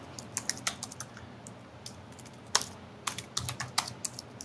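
Computer keyboard typed on in quick bursts of sharp, close key clicks, with brief pauses between runs and no voices.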